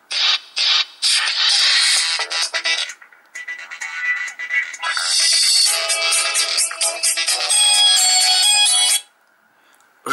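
A Samsung GT-E1150i mobile phone plays one of its built-in tunes, a bright, busy electronic melody through a small speaker. It runs loud and continuously for about nine seconds, then stops abruptly.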